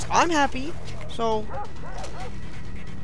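A dog in the video game Far Cry 3 yips and whimpers in short, high cries, heard under someone talking over the game.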